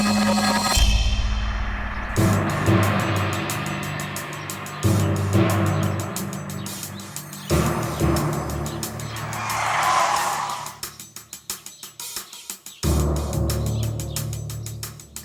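A car in a rural Maharashtra village setting revs and pulls away, with loud engine roar, tyre skids and squeals in several bursts over about fifteen seconds amid drama soundtrack, no talking.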